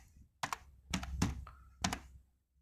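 Typing on a computer keyboard while entering text into Microsoft Word: a few clustered key-press bursts with soft thunks, close and moderately quiet, with no talking.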